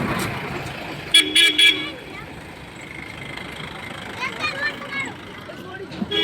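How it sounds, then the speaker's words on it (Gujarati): An auto rickshaw gives several short, sharp horn toots in a quick cluster, with further quieter honks later over street noise and nearby talking. "રિક્ષા આવી ભોંપું"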